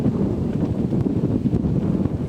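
Headwind gusts over the water at the Harvard–Yale Regatta during a varsity eight rowing race, a low buffeting rumble of wind against the microphone that holds steady throughout.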